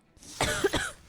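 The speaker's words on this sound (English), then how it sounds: "I'm about to cough." A single short, dry cough up close, two quick bursts from the throat.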